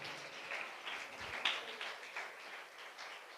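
A church congregation claps their hands in thanks, a soft, steady patter of applause held for a few seconds with scattered louder claps, fairly distant and faint, with no voices over it.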